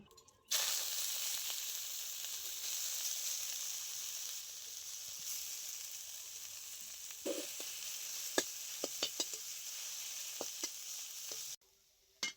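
Steamed khasra greens sizzle steadily in a hot wok (kadai) as their water is dried off, a loud, continuous close-up hiss lasting about eleven seconds, with scattered sharp clicks and scrapes of stirring toward the end and no talking.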